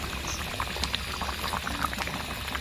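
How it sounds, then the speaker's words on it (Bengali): A pot of Bengali-style chicken and potato curry simmers at a steady rolling boil, with soft continuous bubbling and small pops throughout. The sound is close and fairly quiet, and no one speaks. "মাংসটা হতে আরও খানিকটা সময় বাকি আছে, আর একটু ফুটবে।"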